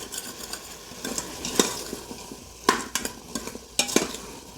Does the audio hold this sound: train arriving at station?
no